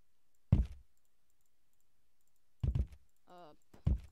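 Computer mouse clicks during a Happy Wheels game session, heard as a few sharp isolated clicks spaced seconds apart, with a short electronic game tone between them in an otherwise quiet background.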